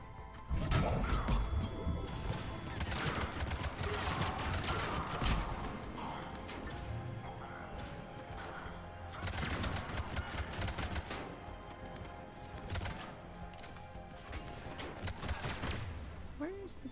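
Video game gunfire from a Mass Effect 3 firefight: dense, repeated bursts and sharp cracks keep coming throughout, mixed with impact clatter and mechanical noise under intermittent talk.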